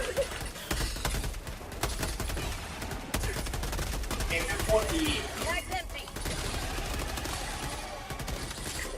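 Machine gun fire in the video game Helldivers 2, a dense, continuous stream of rapid gunshots that stays loud and close throughout, with faint voices mixed in.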